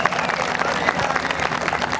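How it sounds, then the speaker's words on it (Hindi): An audience at a comedy show in Tharparkar claps, a dense burst of applause with crowd voices mixed in, lasting only a moment. "तो आप सब लोग एक ताली आपके अपने खुद के लिए बजाओ"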